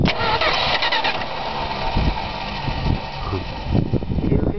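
A 1974 Dodge Coronet engine with a loose starter cranks and fires, then runs roughly at a steady, loud, close level with brief louder surges near the end.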